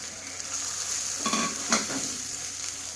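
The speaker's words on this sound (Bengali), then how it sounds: "দিয়ে মশলাটাকে কষিয়ে নেব।" Ground chilli, turmeric, cumin and coriander powders sauté with a hilsa fish head in a hot pan, giving a steady soft sizzle broken by a few brief scraping stirs near the middle.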